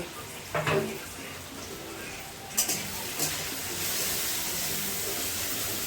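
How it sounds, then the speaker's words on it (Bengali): Tomatoes and turmeric being stirred in a frying pan for a Bengali small-fish curry, with a steady sizzle and a few sharp spatula scrapes and clanks near the start and middle, growing louder toward the end. "এরপর ভালো করে নেড়ে চেড়ে নেব"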